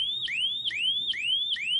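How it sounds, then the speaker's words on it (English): A homemade electronic siren circuit sweeps its tone upward over and over, about four rising whoops in quick, even succession, loud and close with no talking. "And we have a siren."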